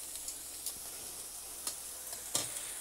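A pork chop fries in a pan with a steady, faint sizzle, broken by a few light taps and stirring clicks, and no voices.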